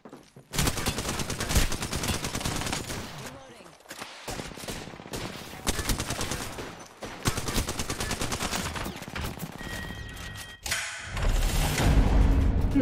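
Heavy video game gunfire while the player is under attack, dense volleys of rapid shots and thuds hammering almost continuously at close range, with brief lulls and a louder burst near the end.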